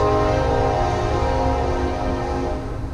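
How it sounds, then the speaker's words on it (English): A train passing nearby, a loud sustained rumble with a steady droning horn-like tone that slowly fades, heard outdoors with no talk. "Gotta wait for the train."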